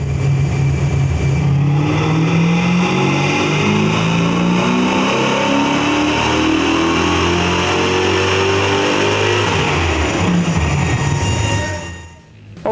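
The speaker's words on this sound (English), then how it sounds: "let's check out the dyno run with the old setup" A 1979-1995 Fox-body Ford Mustang with Trickflow Twisted Wedge 11R cylinder heads, a T5 gearbox and 3.73 rear gears roars loudly on a chassis dyno, engine pitch climbing steadily through a full pull before dropping off at the end.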